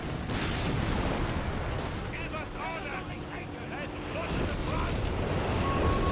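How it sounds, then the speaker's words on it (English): An artillery barrage in the Company of Heroes 3 strategy game: dense, continuous rumbling blasts and crackling shellfire, loud and sustained throughout, with a voice talking over the battle. "big boy artillery is coming in"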